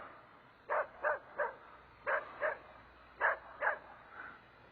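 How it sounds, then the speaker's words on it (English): A dog barks in a series of eight short, moderately loud yips in small clusters at some distance, over steady outdoor background noise. "sorry about this annoying dog barking"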